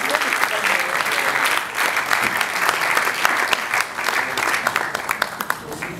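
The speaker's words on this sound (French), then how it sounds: "Est-ce que nous pouvons aussi l'applaudir?" A crowd at a live event applauds, dense sustained clapping that runs for several seconds with a few brief dips, while voices call out faintly underneath.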